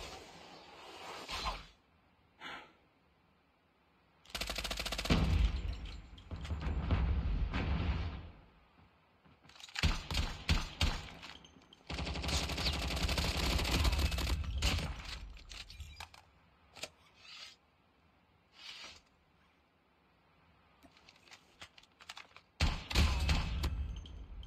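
Bursts of Call of Duty Mobile gunfire from an M13 rifle and other weapons in a solo-versus-squad match, coming in several loud broadband volleys separated by quieter gaps, with sporadic single pops and thuds between.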